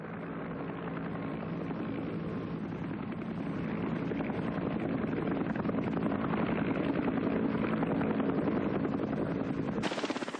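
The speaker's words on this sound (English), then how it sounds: "a wounded man could expect to be picked up by medevac helicopter in less than half an hour" A medevac helicopter in the Vietnam War thunders steadily overhead, rotor blades chopping loudly and evenly for several seconds, with a brighter swell near the end.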